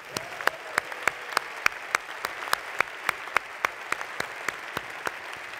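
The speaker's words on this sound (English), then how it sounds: "So let's give everybody a round of applause there." Audience applause at a San Bernardino County State of the County event, with sharp, regular individual claps standing out distinctly over a softer background of wider clapping in a large hall.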